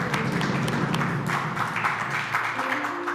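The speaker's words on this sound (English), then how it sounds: "And keep clapping because it's time for the offering." Congregation clapping during a Sunday worship service, a dense blended wash of handclaps under sustained music or singing, loud and continuous throughout without a break.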